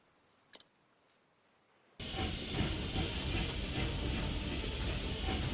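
A train in the video game Octopath Traveler 2 bursts in abruptly after near silence, a loud, dense rushing hiss and rumble that holds steady as it draws close.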